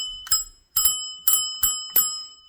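Bicycle bell mounted on a handlebar, struck five times in a steady rhythm, each ring a bright metallic ding that decays quickly, close and clear with no talk.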